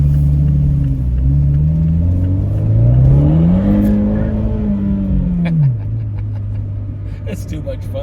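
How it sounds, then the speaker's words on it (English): A 2018 Fiat 124 Spider Classica with a six-speed drives off as its engine rises and falls in a low, loud exhaust drone, followed by a few sharp crackles near the end, with a voice talking over it. "I don't know if you probably hear some of the exhaust burbling and cracking back and everything like that."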